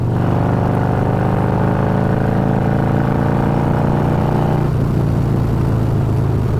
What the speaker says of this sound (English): Let's hear the sweet purr of that engine.